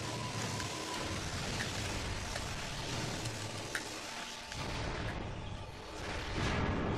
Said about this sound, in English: I should probably shoot those guns.